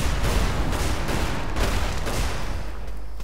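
Gunfire crackles through a Magicka battle, a dense, sustained volley of overlapping shots and thuds at steady loudness throughout, with no talking.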